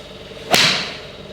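A golf ball struck with a Cobra DS Adapt iron gives a single sharp, crisp click-like impact, loud and close, fading quickly.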